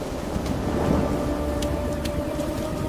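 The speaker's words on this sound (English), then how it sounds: "After years of drought, God finally sent rain." Steady rain hisses under a low rumble of thunder in an animated biblical film scene, a continuous wash of sound with a few faint crackles and no voices.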